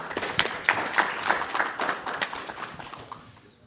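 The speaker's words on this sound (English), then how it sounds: "So I want you all to give him a round of applause and thank him." A modest audience at a shipping-container technology conference gives a round of applause after a panelist, scattered claps that peak early and taper off over a few seconds.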